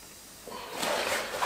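Air hisses out of a Western Mountaineering Antelope winter sleeping bag's waterproof stuff sack as it is squeezed shut, a faint rustle that swells into a soft, breathy rush of escaping air.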